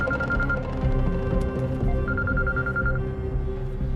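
A telephone rings with repeated bursts of a trilling electronic ring and goes unanswered, sitting under a dense, busy background score.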